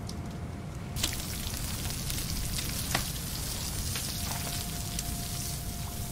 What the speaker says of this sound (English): Now we can cook up those crabs we caught on the way back